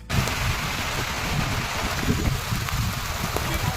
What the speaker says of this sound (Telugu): హఠాత్తుగా వర్షం స్టార్ట్ అయిపోయింది ఈవినింగ్ టైం